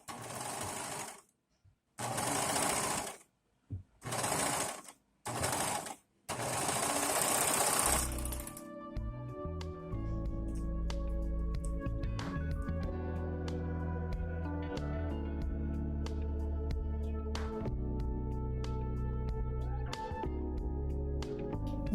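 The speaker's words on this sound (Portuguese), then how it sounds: "vou overlocar aqui, ó, no centro da pala e também no gancho das costas" An overlock machine serges the seams at the yoke centre and back crotch of a pair of trousers, running in a steady continuous whir after several short bursts of stitching, close and loud with no talking.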